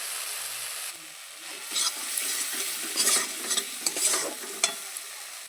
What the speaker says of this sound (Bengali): মশলাটা দেখতে এমনভাবে কষে নিতে হবে।